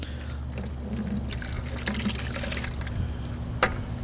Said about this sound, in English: What you want to do is just pour out all the debris that you have in there with some water.